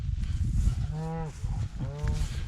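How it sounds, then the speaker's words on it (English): Cattle penned in an enclosure moo twice in low, drawn-out calls over steady rumbling background noise. "I got the cattle in here."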